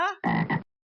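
A single frog croak, a short raspy double-pulsed call, close and clear, preceded by a brief tonal sound and followed by silence.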